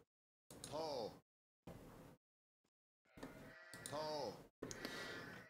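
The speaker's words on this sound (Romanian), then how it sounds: "Avem oi" Sheep in the video game Age of Empires bleat in several wavering calls separated by short silences, fairly loud and close, with a brief spoken word in between.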